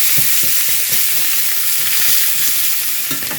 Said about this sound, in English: So add your onions. Now we're just going to cook these until they are starting to brown